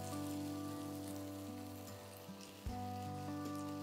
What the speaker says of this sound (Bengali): মশলা ভাজার একটু কাঁচা গন্ধটা চলে গেলে এটার মধ্যে আমি টমেটো, ধনেপাতা, কাঁচা লঙ্কা দিই